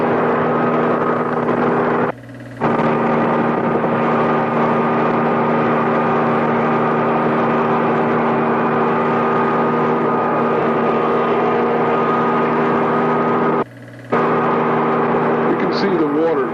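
A racing powerboat engine at Mar del Plata in 1978 drones loudly and steadily, a constant deep hum broken by two brief dropouts.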